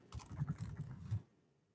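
Quick bursts of tapping on a computer keyboard, soft and close, a rapid patter of keystrokes lasting about a second before stopping.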